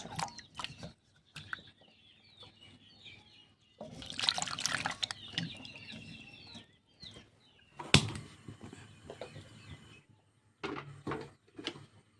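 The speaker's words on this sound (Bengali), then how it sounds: "এই যে আলুগুলো ধুয়ে নিচ্ছি" Potatoes are washed by hand in water in a village kitchen. Intermittent splashing and trickling come from close by, with a few louder sloshes. Birds and a rooster are faintly audible in the background, and no one talks.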